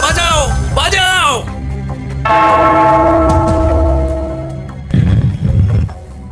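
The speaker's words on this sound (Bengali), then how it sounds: "ওই ঘন্টাটা বাজাও, বাজাও" A cartoon bell rings out with sustained, sweeping tones that carry for several seconds, while animated voices talk loudly before and after it.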